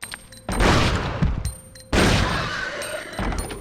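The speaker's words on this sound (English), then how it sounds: "This is a Magnum after all, so most enemies are probably gonna go down in no more than 2 shots." Magnum revolver shots fired in the video game Resident Evil Outbreak File 2: two heavy, loud booms about a second and a half apart, each followed by a rumbling decay and scattered impact noises.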